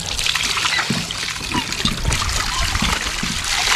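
Water trickles and splashes steadily nearby in a rural provincial yard where stored water sits, a continuous close, fairly loud wash.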